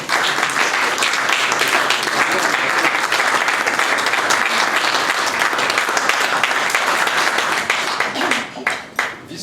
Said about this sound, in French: je vais vous demander d'applaudir une personne qui est ici, qui est Jean-Claude Zambelli